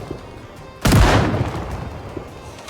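A single loud gunshot from the video game Project Zomboid booms nearby, then trails off into a fading rumble over a quiet background.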